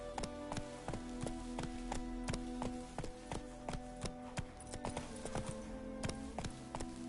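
Roach, a horse in The Witcher game, gallops with brisk, regular hoof clip-clops that sound steady and fairly close over a low background, with no voices.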